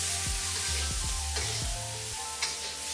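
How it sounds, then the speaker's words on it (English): Malaysian mee goreng with potatoes and liquid and dry seasonings is stirred briskly in a hot pan, several quick scraping strokes over a soft sizzle, close and brief. "Quickly stir it."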